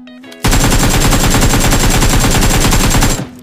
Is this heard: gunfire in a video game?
yes